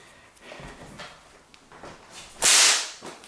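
A small whip fitted with a deer or chamois leather cracker gives one sharp, bright crack partway through. A few soft swishes and light movement sounds come before it.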